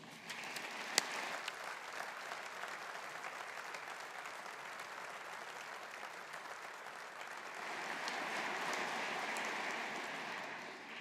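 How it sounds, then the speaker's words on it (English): An audience at a university business school graduation ceremony gives a sustained round of applause, dense and even, swelling slightly louder toward the end. "show our appreciation and gratitude with another round of applause"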